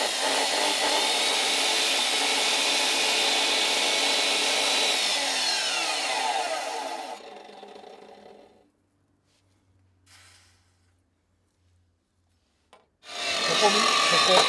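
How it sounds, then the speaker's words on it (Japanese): A hand tool rasps steadily across a small wooden shim during the repair of a half-century-old antique chandelier, a close, continuous scraping that stops abruptly into near silence before scraping resumes briefly at the end. "こっちに下駄を履かしてこっちを削ってフラットきれいに出していこうかなって思います"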